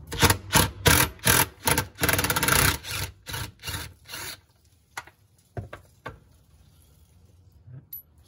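A socket wrench loosening the 13 mm drive shaft nuts on a BMW E46 during a clutch job, with rapid rhythmic ratcheting bursts up close, then scattered single clicks and clanks that gradually thin out.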